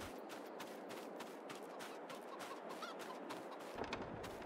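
Chickens clucking in the Farming Simulator 22 game, a busy flock of close, repeated clucks and short squawks over a low background bed, with no talking.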